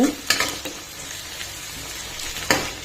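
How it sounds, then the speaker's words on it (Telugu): Onions with cumin powder fry in a pan for banana soup, giving a soft steady sizzle with a few sharper scrapes and taps from stirring, close and fairly quiet, with no talking. "ఇది కూడా మిక్స్ చేసి ఒక 2 minutes ఫ్రై అవ్వనిద్దాం."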